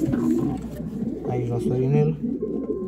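Pigeons in a breeding loft cooing in low, rolling calls close by, overlapping someone speaking in Romanian.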